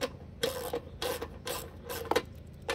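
A ratchet works on the bolts of a mower deck spindle cover, producing short bursts of clicking and ratcheting at a steady rhythm, quiet and close against a low background hum.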